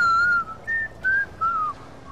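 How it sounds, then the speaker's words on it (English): A person whistling close into a microphone during a Dying Light: The Following gameplay session, four sustained melodic notes in a short rising and falling tune, loud and clear with brief gaps between phrases. "It sounds weird when you whistle into your mic."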